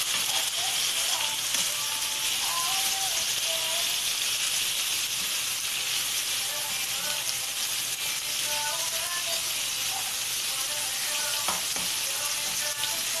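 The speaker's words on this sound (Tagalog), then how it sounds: "Tapos haluin lang natin." Adobo sizzles and fries in a pan while being stirred: a steady, close, even hiss that runs through the whole stretch, with faint scrapes and light clinks scattered through it.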